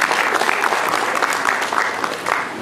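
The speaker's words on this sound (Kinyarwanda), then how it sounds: "reka tumukomere amashyi kuko ari babiri" Lively applause from a crowd at a dowry ceremony (remise de dot), continuous clapping with small swells lasting the whole stretch, with faint voices mixed in.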